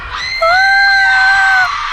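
A woman's loud, sustained scream of terror from an animated Hindi horror story, rising sharply and holding for over a second before trailing off, close and piercing.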